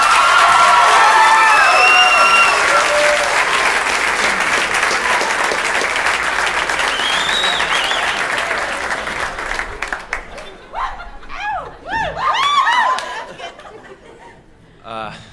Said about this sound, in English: Ladies and gentlemen, make some noise for Bo Burnham